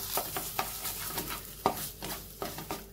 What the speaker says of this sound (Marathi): रंग बदलेपर्यंत आपण खवा भाजून घेणार आहे।